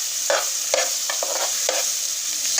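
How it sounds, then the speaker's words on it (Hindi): Chopped carrots roast in ghee in a pan for gajar halwa, with a steady close sizzle broken by regular scraping stirs every half second or so. "तो इसकी हम अब थोड़ी सी भुनाई करेंगे।"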